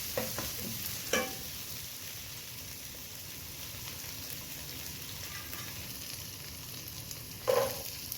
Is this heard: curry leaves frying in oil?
yes